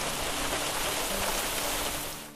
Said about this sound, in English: but the unrelenting rain for days, a record-setting 52 inches,